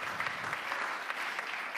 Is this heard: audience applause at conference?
yes